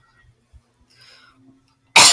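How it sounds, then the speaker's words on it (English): A single loud, sharp cough bursts out at the very end after near silence with faint breathing sounds. "Sorry for that cough."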